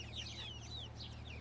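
Meat chickens cluck softly in a barn or coop, a few faint brief calls over a low steady hum.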